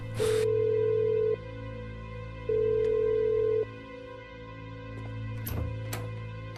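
An unanswered telephone call rings out in two long, loud electronic tone bursts separated by a pause, over a steady low hum, followed by quieter background sounds.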